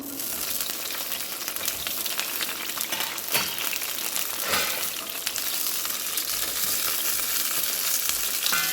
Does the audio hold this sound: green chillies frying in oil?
yes